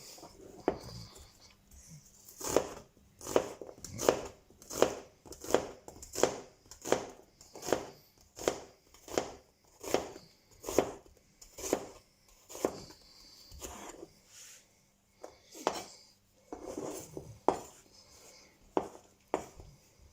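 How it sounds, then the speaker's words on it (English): A knife slices an onion on a cutting board in a steady run of crisp, evenly spaced taps, about one per second, close and clear with no talking. "let's slice some onion"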